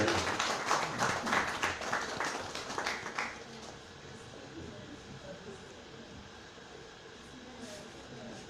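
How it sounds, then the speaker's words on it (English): An audience at a Nigerian security forum claps to welcome General Obiako, a dense burst of applause for about three seconds that then fades into quieter room tone. "Please join me with a round of applause as we welcome General Obiako"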